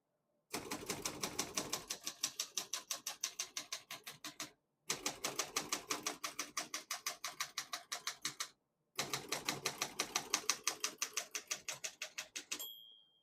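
A 1970 Olympia SM9 portable manual typewriter clacks steadily in three long runs of rapid keystrokes, each ending in a brief pause; a faint margin bell ring closes the last run.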